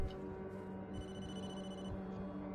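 A telephone rings inside the Blair Witch horror video game, a steady electronic ringing tone sounding continuously over a dense background game ambience for a couple of seconds.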